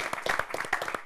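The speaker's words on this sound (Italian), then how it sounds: "fatemi un applauso da solo" An audience at a school event on multicultural education gives a short burst of applause, a handful of distinct, fairly close hand claps in a loose, uneven patter lasting about a second.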